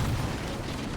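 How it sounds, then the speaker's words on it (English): A grenade in the Halo video game blows up in a single loud, close blast that rumbles briefly, with no voices. "I think they like shot my grenade as I threw it and it blew up"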